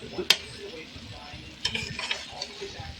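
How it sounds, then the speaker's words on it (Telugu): Gongura egg curry stirred in a pot, with a spoon clinking against the metal, soft scraping and a quiet simmering sizzle underneath, all close by. "ఇప్పుడు మంచిగా మిక్స్ చేసుకున్నాం"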